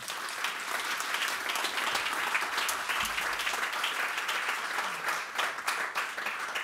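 A conference audience gives sustained applause welcoming a panel, dense steady clapping from a full room that continues evenly from start to finish without a break.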